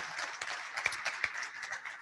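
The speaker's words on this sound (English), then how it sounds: "Another round of applause, please, for Dr." An audience at a Rotary Club weekly hybrid meeting applauds a guest speaker, producing a soft, steady patter of clapping with a couple of sharper individual claps, fairly faint and at some distance.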